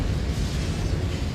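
A Confringo fire spell in the Hogwarts Legacy video game bursts in a dense, roaring explosion that fills the whole short moment with loud, rumbling noise and no speech.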